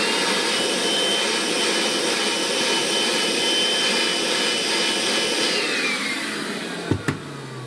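A Makita 40V CL001G stick vacuum cleaner runs with a steady, fairly loud whine and airy rush, then winds down near the end with a couple of brief clunks.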